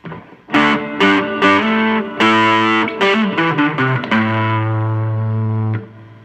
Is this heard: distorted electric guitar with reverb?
yes